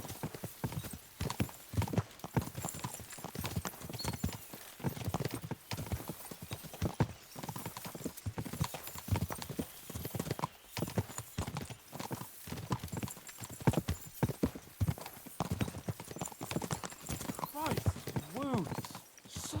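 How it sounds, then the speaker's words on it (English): Horses galloping in the video game Kingdom Come Deliverance 2, a rapid, continuous drumming of hooves throughout, with voices talking over the hoofbeats. "We should spur the horses on."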